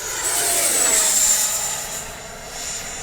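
An FMS 80mm F-86 RC jet flying past outdoors, giving a steady high-pitched turbine whine with broad roaring rush that swells and eases slightly as the model passes, fairly loud and continuous with no talk.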